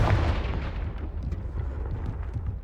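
A Confringo blasting spell goes off in Hogwarts Legacy, a loud, rumbling explosion that starts with a sharp burst and rolls on as a dense, decaying roar through the whole moment, with no voices.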